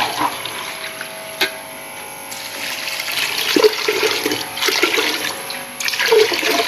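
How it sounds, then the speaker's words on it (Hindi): Water poured from glasses into a cooking pot of daal mash with finely chopped onion and salt, a steady splashing rush that swells and continues for several seconds, close by with no talking. "और अब हम इसमें 4 गिलास पानी के ऐड करेंगे।"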